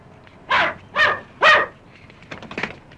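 A dog barks three times in quick succession, fairly close, followed by softer yips and whimpers.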